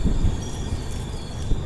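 A train rolls into a station platform in light rain, a steady rumbling rush of wheels and carriages with faint squeals, close and continuous throughout.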